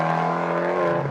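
A Fiat Abarth Turbo's exhaust gives a short throttle blip, a loud, close, buzzy engine tone held for about a second with strong steady harmonics.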